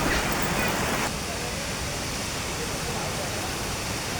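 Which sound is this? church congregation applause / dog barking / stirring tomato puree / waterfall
waterfall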